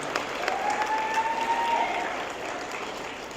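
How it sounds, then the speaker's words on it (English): An audience at a senior awards ceremony applauds for Mrs. Tipton, a steady, dense round of clapping that holds evenly throughout before easing slightly at the end. "Let's give Mrs. Tipton a round of applause."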